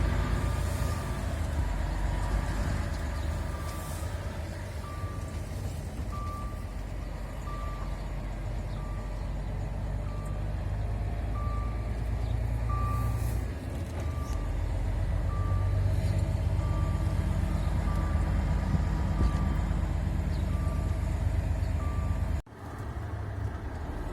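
A truck's seatbelt warning beeps steadily at an even pace over the low rumble of the idling truck, continuing for a long stretch.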